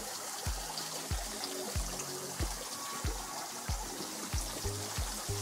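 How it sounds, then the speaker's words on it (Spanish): Water trickling and splashing at the Amolo waterfall in Xochiatipan, Hidalgo, still running after rain; a steady wash with repeated low thumping pulses, fairly faint and continuous, with no talk. "Sí, está escurriendo todavía."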